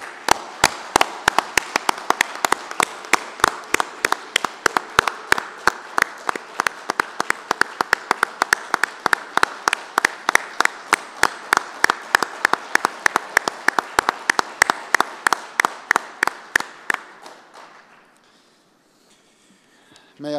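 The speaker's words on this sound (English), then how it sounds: "I would like to have a big applause for these terms of reference and establishment of this network." A seated audience at a formal meeting of national societies bursts into steady, loud group applause, dense overlapping claps sustained for about seventeen seconds before fading out abruptly to near silence.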